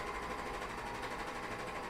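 A serger or coverstitch machine runs continuously while sewing underwear, a fast, even mechanical whir heard close and alone at a low level.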